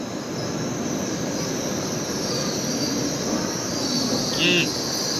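Steady rumble of a high-speed train running on rails at around 300 km/h, continuous wheel noise with a brief higher squeal near the end.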